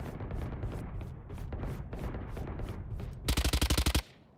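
Rapid bursts of automatic gunfire in Valorant, with a dense rattle throughout and a loud, evenly spaced volley of shots near the end.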